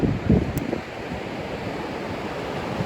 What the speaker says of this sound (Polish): Zobaczcie, jak daleko fale sięgają.